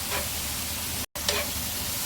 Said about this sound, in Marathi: हळदीला पण बऱ्यापैकी मिक्स करून घेतला